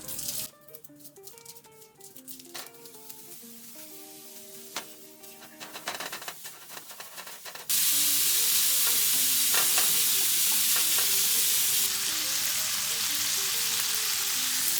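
Al pastor chorizo sizzles in a pan while being stirred and scraped, quiet at first with clinking stirs, then a sudden loud, steady frying hiss that continues under occasional stirring.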